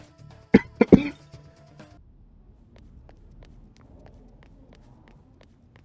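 A person coughs close by, three sharp harsh bursts in quick succession, followed by near quiet with faint scattered clicks.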